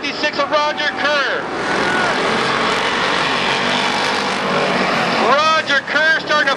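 Street stock race cars racing on the Barona Speedway oval, a loud continuous roar of several engines at full throttle, with an announcer's commentary breaking in at the start and end.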